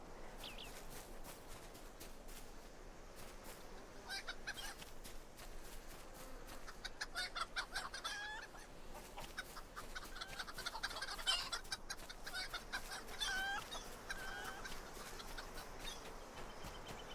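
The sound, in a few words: chickens clucking in video game Lord of the Rings Online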